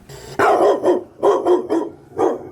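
A dog barks loudly and close by in quick bursts: a couple of barks, a short pause, a rapid run of four, then one more, each sharp and rough with no talk over them.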